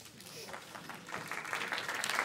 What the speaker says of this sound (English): Let's applaud a little bit more.